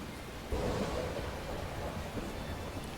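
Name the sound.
thunder sound effect in Tales of Berseria video game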